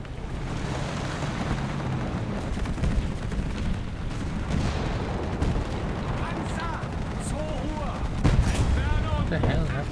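Massive 1,000-pound bombs exploding in a video game, a dense continuous rumble of blasts and booms with sharper cracks, heavy and loud throughout, with someone talking over it.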